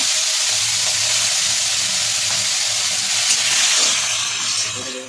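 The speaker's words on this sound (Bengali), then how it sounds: "তেলটা গরম হয়ে গেছে, এবার এই যে চিংড়ি মাছগুলো আমি ভেজে নেব।" Prawns frying in hot oil, a steady broadband sizzle that holds evenly for about five seconds and fades slightly at the end, close and loud with no talking.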